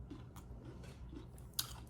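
Someone bites into and chews grilled asparagus close to the mic, soft wet crunching that keeps going, with one sharper crisp snap near the end.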